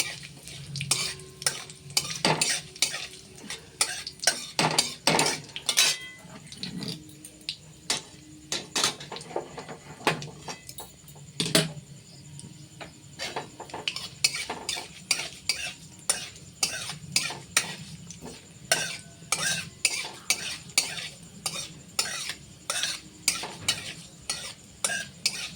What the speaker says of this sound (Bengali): এবার এটাকে একটু নেড়ে ছেড়ে নেব, একটু ভাজা ভাজা হোক